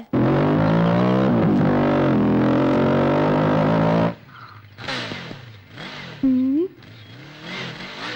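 A motor vehicle engine runs loud and steady for about four seconds, then cuts off abruptly, leaving quieter stretches with brief voices and scattered noises.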